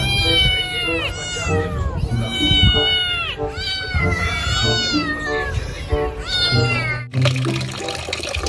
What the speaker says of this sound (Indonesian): Wadidaw, ternyata ini kucing.